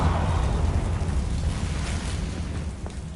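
A Confringo fire-blast spell in Hogwarts Legacy, a deep rumbling explosion that rolls on and fades slowly, loud and low with no voices over it.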